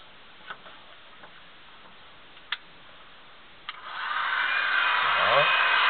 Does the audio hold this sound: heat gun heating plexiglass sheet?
yes